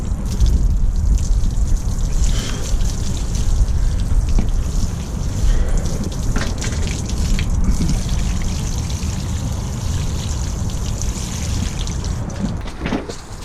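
Homemade liquid weedkiller pours steadily onto a garden, a continuous close trickle and splash of liquid running for the whole stretch without talk.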